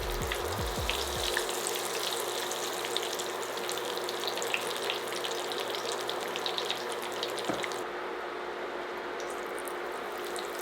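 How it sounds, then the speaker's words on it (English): Hot Cheetos-coated mozzarella sticks deep frying in oil give a steady, close crackling sizzle with dense popping bubbles. It runs alone throughout and thins out slightly near the end. "Now enjoy this frying ASMR for a bit,"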